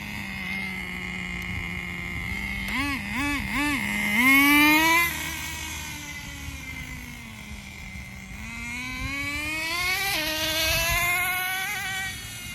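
A Thunder Tiger TS-4n nitro RC boat with a 4Tec Pro .15 engine runs low on fuel, giving a steady high buzzing whine that wavers, warbles briefly, then revs up and sags again at moderate distance.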